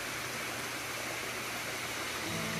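Water flows steadily in a stream through an aquascape-designed backyard garden pond, a constant, even rushing and burbling wash with no pauses, moderately close.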